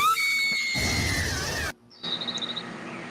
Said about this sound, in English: her scream is going up to a D flat 7. Just take a listen here.